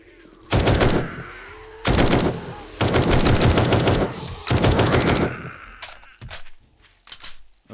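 Rifle gunfire from the video game 7 Days to Die during a horde night, loud rapid bursts of shots in four dense volleys, followed by scattered single shots and fainter clatter.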